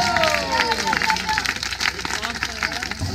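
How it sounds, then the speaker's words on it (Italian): A crowd at a wheelchair motorcycle and kart therapy event claps together in a brief, dense burst of applause, close and lively, with voices mixed in. "Facciamoci un applauso a tutti!"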